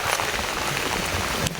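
Heavy rain pours steadily onto a rice field, a dense continuous hiss of drops, loud and close with no voices.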